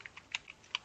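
Computer keys being typed while writing code, a few quick light clicks in an uneven rhythm, close and quiet, with no voice.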